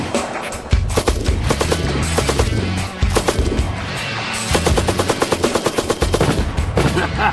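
A PKM Russian belt-fed machine gun chambered in 7.62x54 Russian firing long, loud automatic bursts of rapid shots outdoors, with a short pause between strings of fire.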